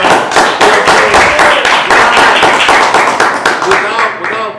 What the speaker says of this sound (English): Clap it up for God, man.